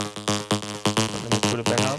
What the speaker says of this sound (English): It's like a really big reverb sound.